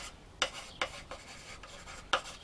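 A marker writes a label on a wooden cabinet panel for overhead van cabinets, heard as three short, sharp scratchy strokes close by in a quiet room.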